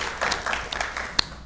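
A brief burst of studio audience applause on a Turkish game show, scattered claps over about a second and a half, with one sharper clap near the end and no talk.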